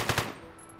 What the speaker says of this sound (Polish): Strzał z karabinku.